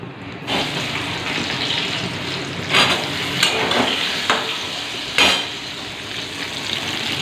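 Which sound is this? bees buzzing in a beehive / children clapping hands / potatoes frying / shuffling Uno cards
potatoes frying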